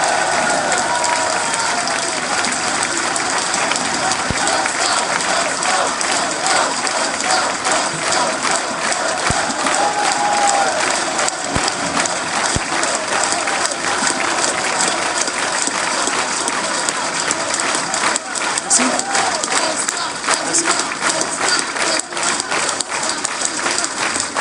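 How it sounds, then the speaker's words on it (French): Loud, sustained applause from a conference audience at a political assembly, dense continuous clapping close to the microphone with a crowd texture and no break for the whole stretch. "je vous demande de l'applaudir très fort"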